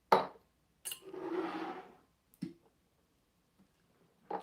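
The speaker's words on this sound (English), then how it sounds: "I gotta pour another glass of wine." Wine is poured into a glass in a short, gurgling stream lasting about a second, framed by a few sharp clinks and taps of bottle and glass in a quiet room.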